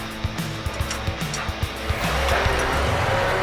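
A 1966 Chevrolet C20 truck is driving, with a series of evenly spaced knocks and thumps over the engine, then a louder, fuller engine rumble as it pulls ahead.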